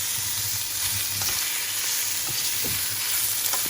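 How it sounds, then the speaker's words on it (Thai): Pork belly stir-frying in red curry paste gives a loud, continuous close-up sizzle with occasional scrapes and knocks of stirring throughout, and no talking. "เราผัดจนพริกแกงเราแตกมันแล้วนะจ๊ะเนาะแล้วก็มาใส่หมูสาม ชั้นหรือหมูติดมันของเราลงไปเลยจ้า"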